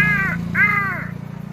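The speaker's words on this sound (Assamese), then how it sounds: "সেইটো কাউৰীয়ে মাতি আছে।" Two loud, drawn-out caws from a crow close by, the second longer than the first, heard over a steady low hum.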